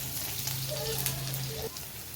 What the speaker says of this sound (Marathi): हिरवी मिरची आपण चांगली परतून घेऊया तेलामध्ये